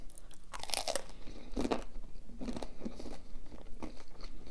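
Crunchy fried potatoes chewed close to the mic, a series of crisp bites and crackling crunches in an irregular rhythm, fairly quiet with no talking.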